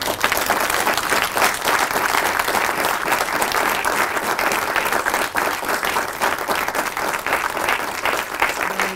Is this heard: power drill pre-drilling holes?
no